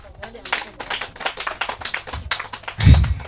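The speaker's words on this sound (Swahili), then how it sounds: "Sasa piga makofi kwa Yesu" Church congregation clapping in praise during a Swahili sermon, a run of quick irregular claps mixed with voices, ending in a louder low thump.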